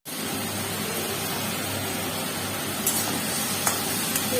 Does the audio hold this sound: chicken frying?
yes